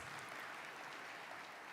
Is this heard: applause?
yes